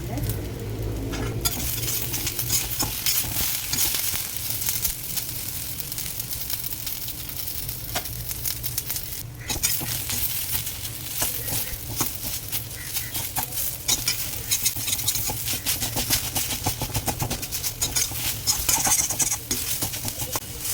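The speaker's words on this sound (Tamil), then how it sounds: "நீங்கள் இப்படியே கூட வதக்கி எடுத்துக்கலாம் ஸோ கருவேப்பிலை கொஞ்சம் போடுறேன்" Chopped sepan keerai greens with curry leaves sautéing in a pan for usili, a steady close sizzle and fry with stirring scrapes running throughout, no talk.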